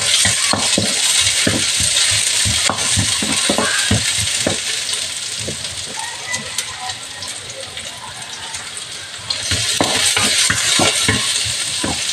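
Onions dropped into hot oil in a wok, giving a steady loud sizzle with repeated scraping and stirring knocks, a brief quieter patch and then a renewed burst of frying; no talking.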